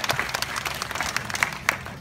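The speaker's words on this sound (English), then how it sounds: "Give them a round of applause," An audience at an Australian shearing show breaks into steady applause, a dense, close patter of many hands clapping with a few sharper claps standing out.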